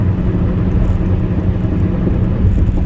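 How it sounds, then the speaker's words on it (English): Loud, continuous low roar and rumble of a vehicle's tires on the road, heard from inside the car as a steady droning hum with no breaks. "But also the tires on this vehicle are making a really weird noise."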